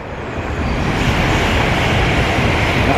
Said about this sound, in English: That, of course, is a train going overhead.